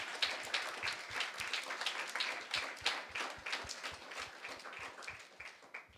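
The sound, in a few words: congregation applauding in church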